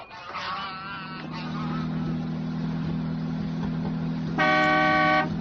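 Car horn from an early-1940s automobile, a steady low honk running throughout under traffic-like noise, with a louder, brighter blast near the end; a voice is briefly heard early on.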